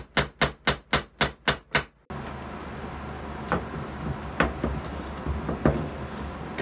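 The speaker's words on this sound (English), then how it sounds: "Then I can start tapping my nails in." Hammer tapping nails into a reclaimed wood wine tray, seven quick, evenly spaced knocks close up, followed by quieter scattered bumps and handling noises.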